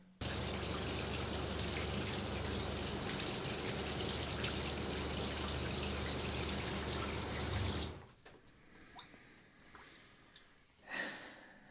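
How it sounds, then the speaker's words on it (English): A freshwater pump feeds a shower inside a camper van, a steady loud hiss of running water with a low pump hum for about eight seconds, then it stops, leaving faint drips and small knocks. "One easy way to test whether the pump is on"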